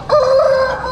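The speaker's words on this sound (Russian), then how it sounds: "Тут смотрите на этого петуха," A large rooster at an Afghan bird market crows once in a single loud, close, sustained call that holds steady before trailing off, with no talk over it.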